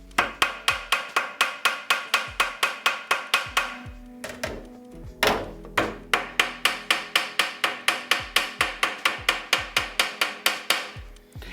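A metal hammer taps bolts laid on a custom motorcycle battery box to mark their positions, making a steady run of sharp, close metallic strikes that pause briefly and then resume in the same even rhythm.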